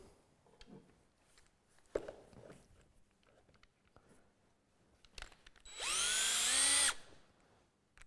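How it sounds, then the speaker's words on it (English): A power drill with a spur bit whirs loudly for about a second, rising in pitch as it bores through, with quieter workshop handling noises before it. "So we drill a hole right in the middle."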